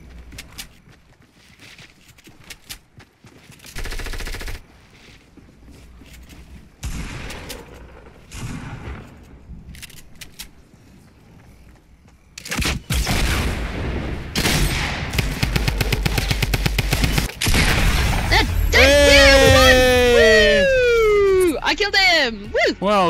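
Gunfire in a Fortnite-style battle royale video game: sparse shots early, then dense rapid bursts and booming hits building to loud continuous action with sweeping electronic whooshes near the end.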